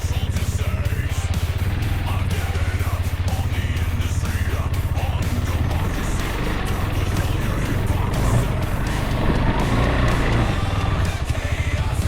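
A KTM 390 Adventure motorcycle is ridden off-road through mud, its engine droning steadily and close with a rough, pulsing low rumble throughout.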